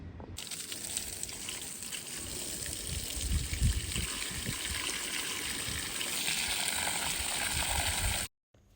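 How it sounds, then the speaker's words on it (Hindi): Water poured onto potted plants on a hot summer day, a steady trickling and gushing that carries on for about eight seconds before stopping abruptly, fairly close and with no one speaking. "इसके बाद जो है ना मैंने प्लांट्स को पानी लगाना होता है।"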